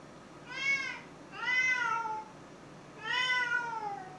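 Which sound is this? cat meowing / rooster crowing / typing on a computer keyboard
cat meowing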